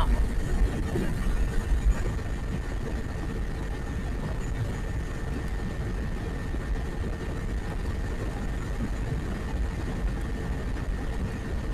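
Modenas Kawasaki Z250 motorcycle ridden at speed, a steady, unbroken engine drone blended with rushing wind noise that holds loud and even throughout.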